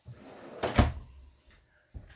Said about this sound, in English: Right below is our pots and pan drawers.